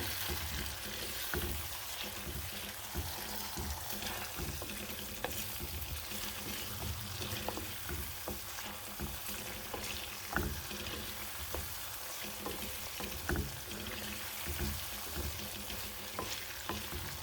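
Tunisian sauce is stirred in a pan, with a steady sizzle and frying hiss under repeated scraping and clinking of the utensil, close and continuous.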